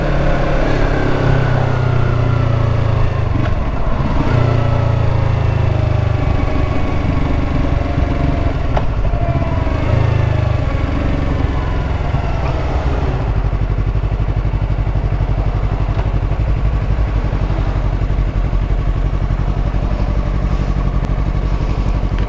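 An R3 motorcycle ridden through traffic, its engine loud and close for the whole stretch. The engine drones steadily and shifts pitch as the rider speeds up and eases off.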